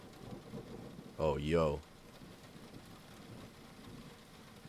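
Soft, steady rain hiss in a game environment, faint and low throughout, with a brief spoken exclamation over it and no distinct thunderclap.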